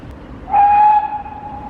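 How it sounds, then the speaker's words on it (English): Whistle of a steam train passing near Dartmouth and Paignton, a single short, clear tone lasting about half a second, moderately loud over quiet outdoor background with no talk. "Here comes the steam train."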